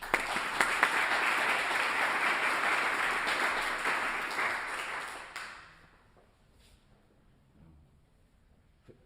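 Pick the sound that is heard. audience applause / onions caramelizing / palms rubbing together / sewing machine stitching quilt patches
audience applause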